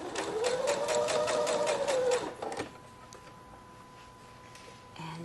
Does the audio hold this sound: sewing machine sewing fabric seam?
yes